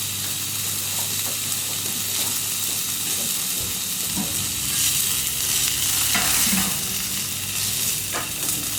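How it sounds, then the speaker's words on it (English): Cudighi sausage with marinara sizzles and hisses steadily on a Camp Chef FTG600 flat top grill, with a spatula scraping and stirring in repeated scrapes over the constant frying noise, close and moderately loud throughout. "Give it a marinara, a little stir."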